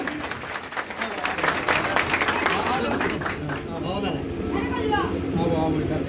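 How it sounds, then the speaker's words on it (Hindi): A crowd claps in a dense burst of applause at an event honouring a powerlifting world champion, with voices and talk mixed in over the clapping. "पवन भैया तो बहुत बहुत गला से जोरदार ताली होनी चाहिए"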